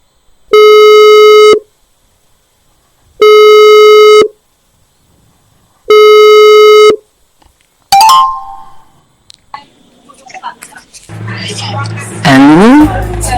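A telephone ringback tone sounds three times in even, spaced pulses while a call is placed, then a click as the line picks up and voices start talking over faint background noise.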